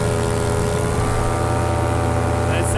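Paramotor engine droning steadily in flight low over sand dunes, a constant close buzzing hum with no pauses, partly masked by wind rushing past.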